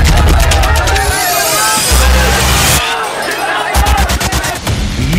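An angry crowd protests outside a Delhi Jal Board office where stones are thrown and windows broken. Loud, dense babble of many shouting voices merges with bangs and clatter throughout.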